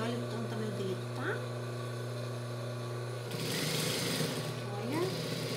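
Sewing machine stitching the seam of children's shorts with pockets, a steady mechanical hum running through, with bursts of faster stitching in the second half.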